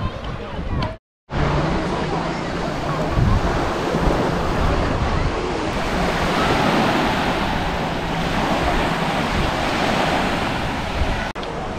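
Surf breaks and washes steadily on the white sand of Nissi Beach in Ayia Napa, Cyprus, a loud, continuous roar of waves mixed with wind buffeting the microphone, with only a brief dropout near the start.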